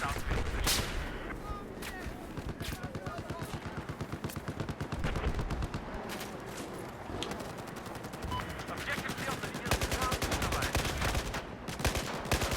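Rapid automatic gunfire with heavy recoil in Battlefield 4, dense bursts of sharp shots fired almost continuously, with a voice faintly underneath.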